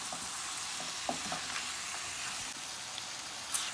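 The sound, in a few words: peas, chicken and carrots being stirred in a pan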